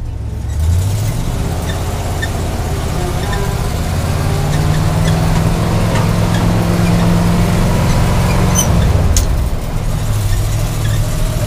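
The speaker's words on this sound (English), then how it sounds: "we'll just flip some gears a little bit" A cold 1973 International Loadstar truck engine runs loud and close, its droning pitch rising and falling as it is shifted through the gears, with a brief clank near the end.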